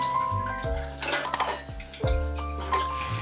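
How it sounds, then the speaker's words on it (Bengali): Dirty dishes being scrubbed and washed at a kitchen sink: metal pots and pans clank and ring against each other several times, with running water and scraping in between, close by and with no talking. "এখন সব কিছু মেজে নেবো মেজে দিয়ে পরিষ্কার করে নেবো"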